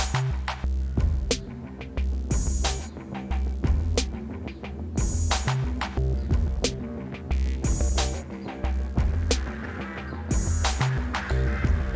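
A sustained, airy ambient drone made in Vienna Ensemble Pro 7, with a low humming bed and washes of shimmering reverb swelling and fading over it.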